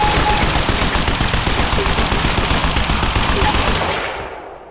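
Rapid automatic gunfire in the video game Quantum Break, loud and relentless as one dense burst that fades out near the end.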